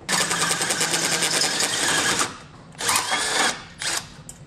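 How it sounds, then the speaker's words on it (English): Power drill driving a 1 1/4 inch hole saw into the steel frame of a 2019 Lincoln, a loud buzzing whir that runs for about two seconds, pauses, then resumes in two shorter bursts, close and without talk. "We're going to use a 1 1/4 inch hole saw to drill that out."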